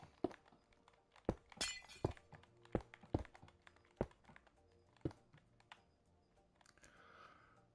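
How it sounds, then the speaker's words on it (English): Glass blocks breaking in the Minecraft video game, a series of sharp, crisp shattering cracks at irregular intervals, fairly faint, with no talking. "I love the sound of breaking glass."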